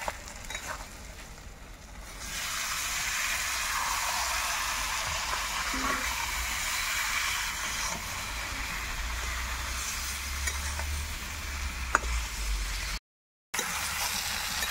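Boiled elephant foot yam hitting hot oil in a pan, giving a steady loud sizzle and frying hiss that runs continuously with a brief dropout near the end.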